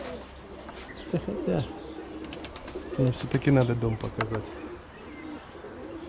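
Young pigeons coo and call near a loft before their first release, low throaty cooing overlapping with a man's conversational speech, plus faint chirps in the background.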